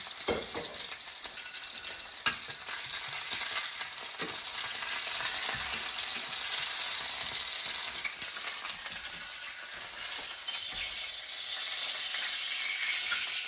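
Brined steaks frying in a hot pan give a continuous, dense sizzle that crackles steadily and evenly throughout, close by, with no voices.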